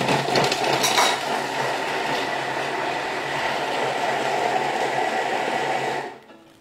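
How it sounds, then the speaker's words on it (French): A Thermomix blending onions, parsley and mint at speed 5, a steady whirring rush with a brief rattling clatter at the start that runs for about six seconds and then cuts off abruptly. "je mixe, donc là, j'ai juste mis oignons, avec le persil et la menthe"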